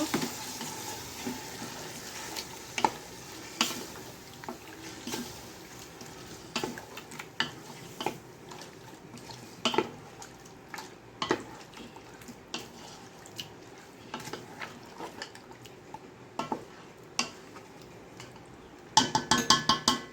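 Chicken for tehari sautés in a pan: a constant close sizzle runs throughout while a spoon scrapes and clinks against the metal at irregular intervals, louder clatter near the end, with no voices.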